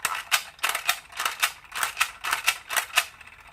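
A worn Fisher-Price toy helicopter mechanism runs rough, producing loud, regular clacking bursts about twice a second, each a sharp rattling snap, close up and alone.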